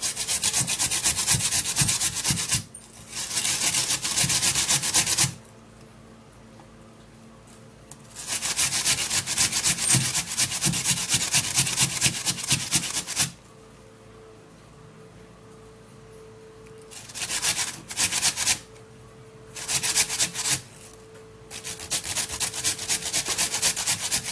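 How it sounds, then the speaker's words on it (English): A raw potato is rubbed against a hand grater in long bursts of rapid, rasping scrapes, broken by several quiet pauses, close and fairly loud with no talking. "to get the juice out of this potato, we are just gonna be grating this up."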